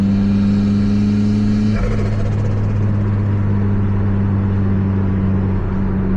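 Turbocharged Toyota MR2 engine heard from inside the cabin, a steady loud drone with strong low harmonics that shifts after a brief change, then holds a rough, continuous engine note throughout with no talking.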